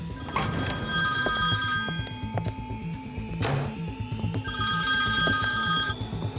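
A telephone bell rings in two long, rapid trilling bursts separated by a pause, fairly loud against a busy background with no talking.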